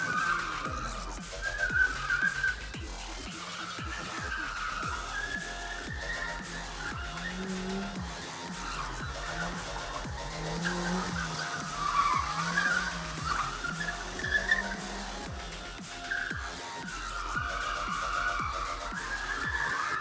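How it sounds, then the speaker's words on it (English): A car skids through a gymkhana motorsport course at a competition, its engine loud and steady throughout with repeated tire squeals and whistling slides rising and falling over roughly twenty seconds. "Pretty quick around this gymkhana course."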